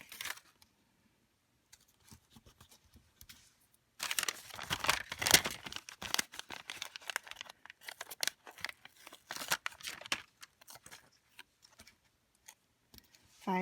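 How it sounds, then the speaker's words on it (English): Star stickers being peeled off a backing and pressed down in a quiet room, with sporadic soft crinkles, then a dense run of papery tearing and rustling in the middle and a few scattered clicks. "So it's just like working with stickers. I'm just peeling and sticking."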